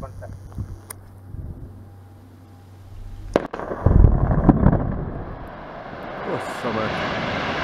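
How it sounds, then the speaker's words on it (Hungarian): Controlled blasting explosion at the Baumit plaster factory in Dorog: a sharp loud blast bursts in after a quiet stretch, followed by a rumbling, rolling roar that slowly fades, with voices nearby. "1, robbantás."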